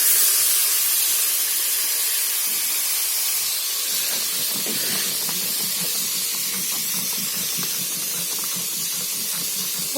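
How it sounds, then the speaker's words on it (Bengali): Fish lightly frying in oil for a mustard curry, a steady close hiss of spitting oil that holds throughout, with some rhythmic low rumbling and bubbling building in the second half. "এই মাছগুলোকে হালকাই ভাজবো"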